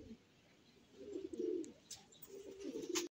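Pigeons coo in their loft, a few soft throaty calls rising and falling close by, with faint chirps and rustling between them.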